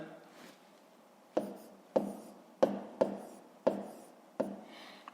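A pen writes numbers for column multiplication on paper, making six or seven short, distinct tapping scratches in an irregular rhythm, close and fairly crisp against a quiet background.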